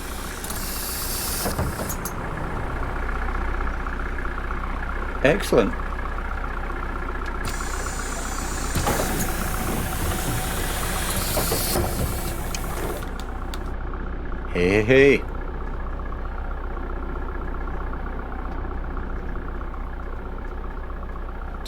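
A bus in The Bus driving game idles with a steady, low engine rumble that runs through the whole stretch, beneath someone talking and a few brief louder knocks.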